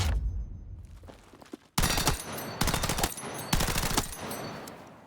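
Close, loud bursts from an SCW submachine gun in Battlefield 6, three long strings of rapid automatic fire separated by short breaks after a quieter opening.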